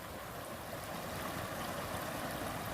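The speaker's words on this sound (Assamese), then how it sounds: "পানীৰ শব্দ শুনিছেই চাগে।" Floodwater surges across a flooded road in a steady, dense rush that holds at the same level throughout, with no voices over it.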